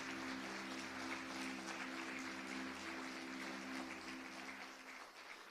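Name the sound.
church congregation applauding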